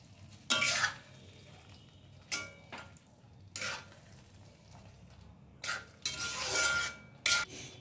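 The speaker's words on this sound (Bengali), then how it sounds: "সেই চিকেনটা আমি এবার কড়াইতে দিয়ে দিচ্ছি। আমি খুব ভালোভাবে চিকেনের সাথে মশলাটা মিশিয়ে নেব।" Marinated chicken frying in a kadai and being stirred with masala, bursts of sizzling and scraping in uneven waves with short quieter gaps, close and without speech.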